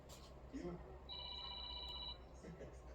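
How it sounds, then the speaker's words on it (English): A phone ringing with an incoming call, a thin electronic ring tone held for about a second over steady background noise, fairly quiet, with a voice heard faintly around it. "I'm getting a phone call."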